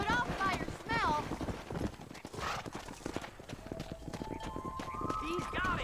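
Horse hooves clip-clop at a steady gait in Red Dead Redemption 2 while herding cattle, close and prominent, with a whinny and people talking over them.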